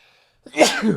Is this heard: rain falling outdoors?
no